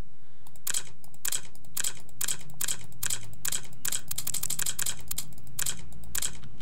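An improvised typing sound effect: a series of sharp, close clicks and taps in uneven bursts like keystrokes, quickening into a dense flurry near the middle before spacing out again.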